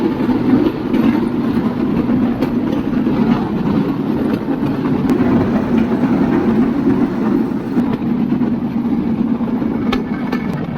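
Train cars rumble along the tracks through the Cambodian countryside, a steady loud low roll with faint intermittent clicks and rattles throughout, no talking.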